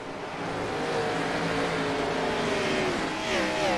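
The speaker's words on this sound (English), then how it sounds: "Here's some cars shifting out there, surprisingly in the Cup car." Stock cars from a Cup-style race roar steadily around the track, engines shifting up and down through gears as they pass at moderate distance, a continuous dense drone with rising pitch sweeps near the end.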